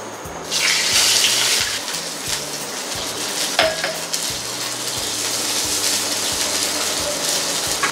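Water, about one and a half glasses, is poured into a hot pan of oil and ajwain on a gas stove, giving a loud splashing gush that settles into steady bubbling and hissing with occasional clatter.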